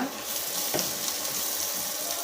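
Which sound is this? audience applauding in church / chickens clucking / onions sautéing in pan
onions sautéing in pan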